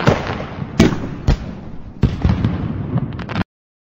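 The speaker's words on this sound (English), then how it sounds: "Yellow fireworks are pretty." Fireworks bursting in a quick series of loud, sharp bangs, each one followed by crackling fallout, with no voices present.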